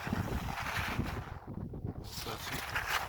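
Outdoor wind buffets the microphone in a loud, steady rumble that eases briefly in the middle before gusting up again.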